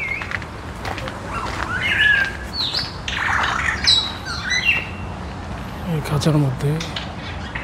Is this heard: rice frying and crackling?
no